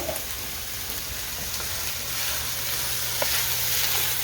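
Lean sausage sizzling in a pan with about half a tablespoon of olive oil, a steady close frying hiss with soft crackles and occasional pops, no talking.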